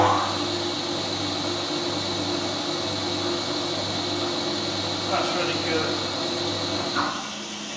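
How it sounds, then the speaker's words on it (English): A Bridgeport Series 1 milling machine spindle runs at low speed in a shop, giving a steady, moderate hum with a constant tonal drone and two brief faint clicks near the end. "So it's running now 115 RPM, and that's 230 RPM."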